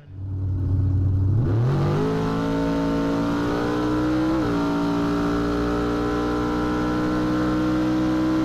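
A drag racing car heard from onboard, its engine roaring up in pitch from idle into a loud, sustained high-revving charge down the strip, with a brief gear change midway.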